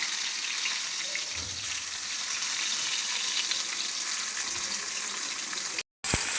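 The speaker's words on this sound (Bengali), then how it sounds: "তাওয়াটা গরম হয়েছে এখন পরিমাণ মতো তেল দিয়ে দিছি এখন করলাগুলোকে দিয়ে দিচ্ছি" Bitter gourd fries in hot oil on a tawa, giving a steady, close, crackling sizzle that runs continuously, with a brief cut near the end.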